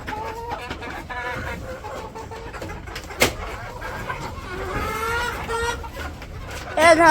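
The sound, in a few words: agitated chickens clucking in a poultry farm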